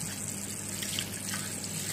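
Steady hiss of tap water running continuously at close range, with no other sounds.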